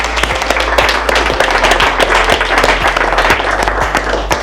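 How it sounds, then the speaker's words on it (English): A large audience at a talk claps loudly and densely in a sustained burst of applause, close and continuous with no voices over it. "Let's clap for them."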